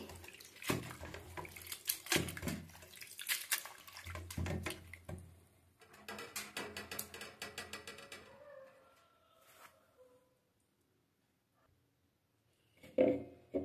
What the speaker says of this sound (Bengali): এবারে আমি এই ঠান্ডা জলের থেকে সব আমি নিংড়িয়ে তুলে দেবো